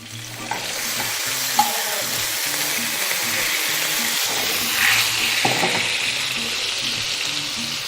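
Butter and stock sizzle loudly in a hot pan while being stirred for a lemon butter sauce, a continuous close frying hiss broken by scraping stirring strokes.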